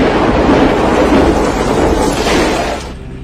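A century-strength hailstorm with thunder in Zhuang County, Guizhou province, China, forms a loud, continuous roaring rumble of pounding hail and storm noise that holds steady before fading at the end, with no voices.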